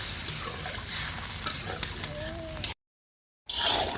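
Fried eggs and broth go into a pan of spice paste that has been cooked down with onion. Steady close sizzling and stirring run throughout, then a brief silence, and the hiss resumes.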